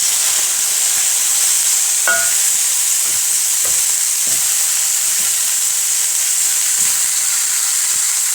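Cow trotters dropped into a hot pot, giving a loud continuous sizzle and hiss with a few scattered clinks and bumps from stirring, no voices.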